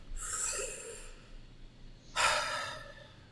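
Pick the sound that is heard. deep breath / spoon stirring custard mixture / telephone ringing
deep breath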